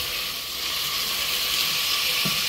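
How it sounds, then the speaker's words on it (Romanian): Onion frying in a pan with a steady, close broadband sizzle and hiss throughout, a faint clink near the end, no talking. "Ceapa se călește foarte bine."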